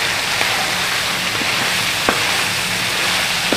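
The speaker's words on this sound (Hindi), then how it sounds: "टमाटरों को भी भून लेंगे अच्छी तरह से।" Tomatoes frying in a pan for mutton tahari give a steady, moderate sizzle with a few sharp crackles and pops scattered through it, and no voices.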